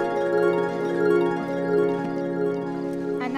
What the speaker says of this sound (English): So that's what the jingling noise sounds like.